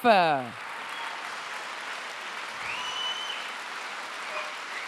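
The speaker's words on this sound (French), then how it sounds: "un dernier applaudissement de tonnerre pour nos lauréats 2019." Steady applause from a crowd at an award ceremony fills the space for several seconds, after a short burst of a French-speaking voice at the very start.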